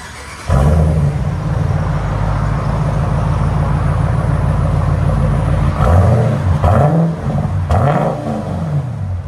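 A 2023 Dodge Durango's 5.7L HEMI V8 idles with a throaty exhaust rumble through Netami turbo mufflers, then revs sharply twice near the end, loud and close with no talking.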